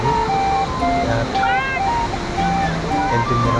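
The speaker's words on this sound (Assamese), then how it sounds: "নদীৰ কাৰেণ্ট চাওক কিমান স্পীডত গৈছে।" Fast-flowing river current rushes in a continuous loud roar on the road from Dirang to Tawang, with people talking over the water.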